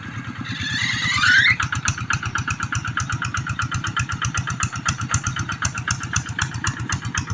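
A tractor engine in a rice field cranks up and settles into a fast, steady, loud chugging idle, close by with no talk over it.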